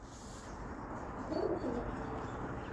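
Pigeons coo in low, soft, rounded calls that swell briefly in the middle, sitting faintly over a steady hiss of outdoor background noise.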